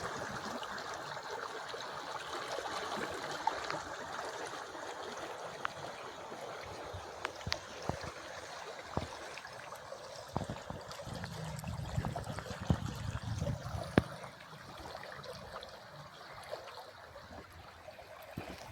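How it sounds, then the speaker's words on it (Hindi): Fast water rushes and gurgles steadily at low volume, a continuous wash of flowing stream with small splashes and clicks scattered through it. "देखिए कितना तेज़ है बहाव।"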